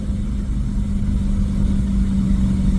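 Car fitted with an Apex'i non-resonated exhaust rumbling loud and close during a downshift, a deep steady droning exhaust note with no pause.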